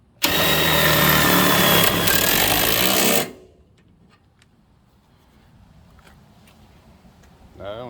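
A BLACK+DECKER 12-volt lithium 1/4-inch impact driver drives the screw of a stabilizer, a loud, continuous rattling buzz for about three seconds that stops abruptly, followed by quiet handling noises.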